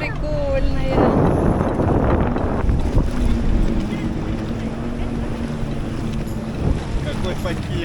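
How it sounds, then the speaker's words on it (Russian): A boat engine drones steadily on open water off Koh Larn island near Pattaya, amid heavy wind buffeting the microphone, with faint voices in the background. "Здесь лодки прям паркуются в воду"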